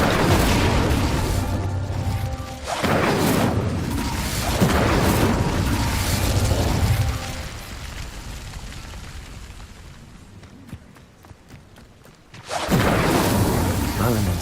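A fire spell cast in the Hogwarts Legacy video game roars in with heavy booming bursts, swelling and fading over several seconds before another loud blast erupts at the end.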